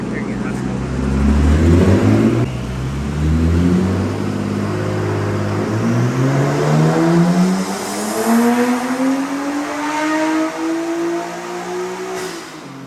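A stock RB20DET engine in a Nissan GTS4 revs up in third gear on a dyno, a loud, rising, strained drone that climbs steadily with rough harmonics for over ten seconds.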